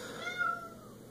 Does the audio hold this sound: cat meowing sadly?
yes